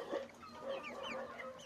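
Several chickens cluck and murmur close by in a rural yard, with overlapping soft clucks and a few higher calls and no talking.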